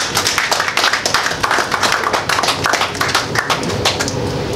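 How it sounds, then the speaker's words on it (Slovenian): Audience at an art expo opening in Slovenia claps, a dense burst of hand claps with an uneven rhythm, close and fairly loud throughout. "da en aplavz naredimo"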